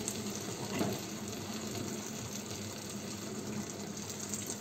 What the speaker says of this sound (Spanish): Entonces esto le voy a echar un poquito más de caldo de agua.